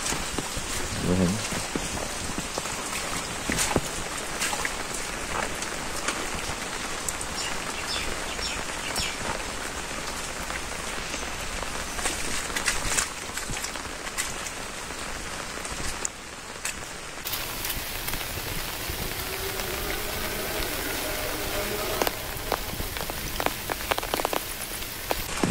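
Heavy rain pours steadily onto surfaces outdoors in a Bangladeshi village, a dense continuous hiss with scattered drop impacts and faint bird chirps, loud and close throughout.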